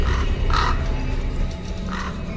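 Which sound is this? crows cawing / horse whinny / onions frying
crows cawing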